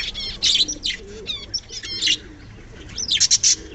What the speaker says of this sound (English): now cockatiel is disturbing every birds in the loft